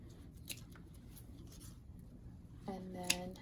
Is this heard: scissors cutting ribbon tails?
yes